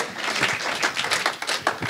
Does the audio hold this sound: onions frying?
no